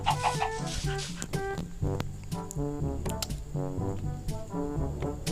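Chickens cluck and squawk in short repeated bursts, fairly close, with other game sounds in the background.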